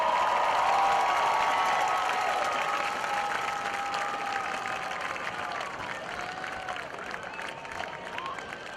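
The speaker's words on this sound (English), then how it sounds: "a huge round of applause for your marching Bulldogs" Crowd applause at a high school football senior night against Mattoon, saluting the school's marching band, a broad steady wash of clapping and cheering that fades slightly over several seconds, with faint voices mixed in.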